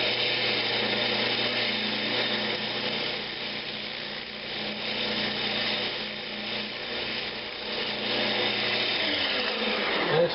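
A wood lathe spins steady and close while a tenon is cut on a tri-cornered turned box. The whirring hum runs on without a break, with faint scraping over it.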